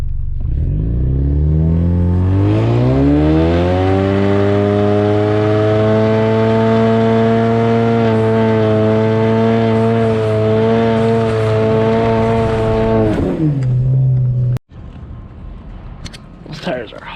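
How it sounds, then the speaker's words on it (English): A cheap Ford Mustang Shelby-badged car doing a standing burnout, engine revving up and holding a high, steady howl for many seconds before dropping off abruptly, loud and close, with voices around it. "Let's see if we can just do a standing burnout."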